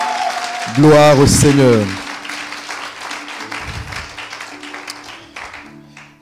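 A church congregation bursts into loud applause and cheering for about a second, then it fades under a voice speaking and a sustained organ or keyboard tone.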